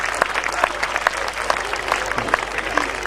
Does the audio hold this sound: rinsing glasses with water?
no